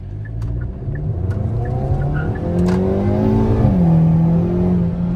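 Hyundai N car accelerating under load, its engine rising steadily in pitch with a loud, sustained drone and slight wheel slip, close and with no voices.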